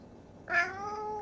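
A single short cat meow, fairly close and clear, rising quickly then trailing off.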